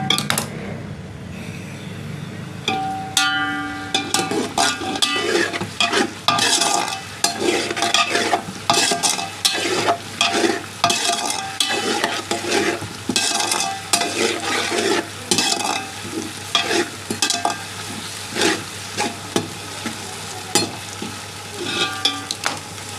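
Whole spices or meat are lightly fried and stirred in a pot for beef pulao, giving a steady close sizzle beneath dense, rhythmic metallic scraping and clanking of a spoon against the pot for over twenty seconds, with no talking.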